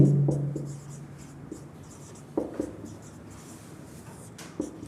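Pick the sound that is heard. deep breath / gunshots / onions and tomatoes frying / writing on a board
writing on a board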